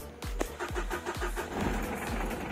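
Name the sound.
Mitsubishi Adventure car engine starting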